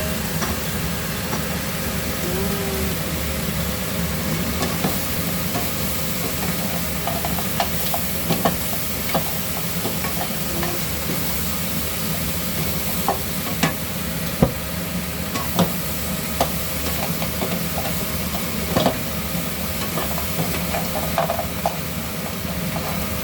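Onions stir-fry in a pan for pepper crab, a continuous loud sizzle and low rumble with scattered clicks and scrapes from stirring, heard for more than twenty seconds with no talking.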